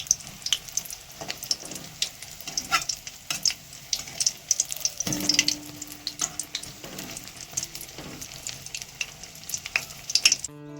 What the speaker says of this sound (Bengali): এদিকে কুমড়িগুলো ভেজে নিচ্ছি